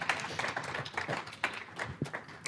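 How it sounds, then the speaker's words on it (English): Scattered clapping from a debate audience, a thin, uneven patter of hands that stays fairly faint and sparse rather than building into full applause. "Clap it up, people."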